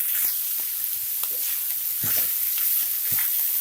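Small-cut carrots frying in oil in a pan, a steady close sizzle with scattered stirring scrapes and clicks of a utensil throughout, no voices.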